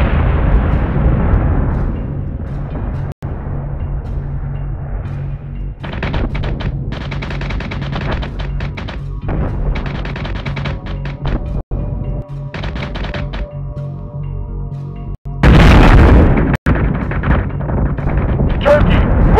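Space combat in the Battlestar Galactica Deadlock game: loud bursts of rapid weapons fire and booming explosions come in waves, separated by quieter rumbling lulls, and a massive blast erupts near the end.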